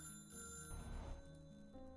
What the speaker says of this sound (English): Is that phone just going to continue to ring forever?